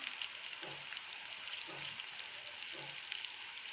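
Ginger-garlic paste frying with onions in a pan for a chana and mash dal, giving a steady soft sizzle with a few faint stirring scrapes, fairly quiet and with no talking.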